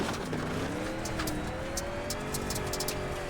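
C12 street stock rally car at full power on a Sonoma rally stage, its engine revving hard with a rising whine and loud, sustained roar throughout.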